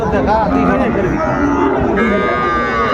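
A Nepali Gir calf moos repeatedly at a busy cattle market in Ambari, close and loud, with more lowing from other cattle and a steady crowd murmur behind.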